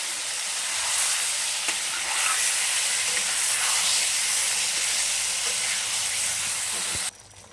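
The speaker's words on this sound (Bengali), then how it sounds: "আমি ওই ম্যারিনেট করা মাংসটা এর মধ্যে দিয়ে দিয়েছি, দিয়ে একটু নাড়াচাড়া করে নিলাম" Marinated chicken for Bengali chicken kosha is stirred in a pan over a low flame, making a continuous, even sizzle and hiss that cuts off abruptly near the end.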